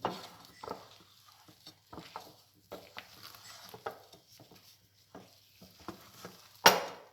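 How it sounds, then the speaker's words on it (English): Sticky Irish soda bread dough being stirred in a bowl, with irregular soft slaps and scrapes and a sharp knock near the end. "It's quite sticky actually. Still going to stir it a little."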